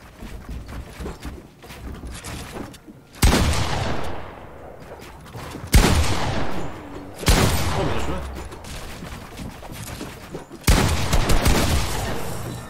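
Gunfire in the video game Fortnite during a build fight: four sharp, loud shot bursts spaced a few seconds apart, each trailing into a ringing decay, with quieter game ambience between them.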